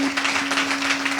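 A church congregation applauds during a worship service, a steady wash of many hands clapping with no voices on top, moderately loud and continuous through the short stretch.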